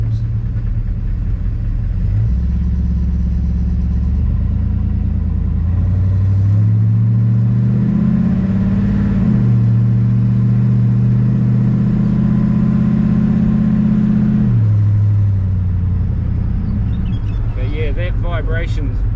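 A 350 small block V8 running in a 1946 Chevy pickup, a loud, close, deep burbling idle that rises through a couple of revs and settles back, with a voice talking near the end.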